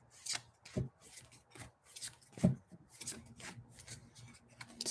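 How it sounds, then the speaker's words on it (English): Tarot cards being shuffled by hand, heard as a quiet run of soft riffling and sliding bursts at an uneven rhythm, close by with no talking. "Just gonna give these cards a good shuffle."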